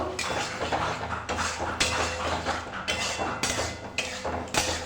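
Tomatoes and egg chilli are stirred in a pan for a Bengali-style egg chilli, with a spatula clanking and scraping against the metal in irregular close knocks and rattles over a low sizzle, no talk.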